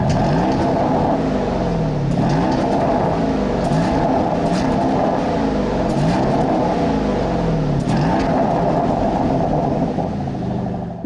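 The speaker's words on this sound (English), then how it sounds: "Porsche tells me it has a new intake, new valves, and a new exhaust, which sounds pretty good" A 2024 Porsche Cayenne V8 engine with new intake, valves and exhaust revs repeatedly, its pitch climbing and falling in regular surges every couple of seconds, loud and close.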